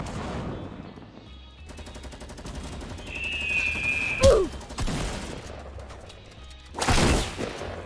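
Gunfire in a Fortnite battle royale match: rapid bursts of shots crackle in quick runs, with a sharp loud crack near the middle and a heavy burst near the end, over game ambience.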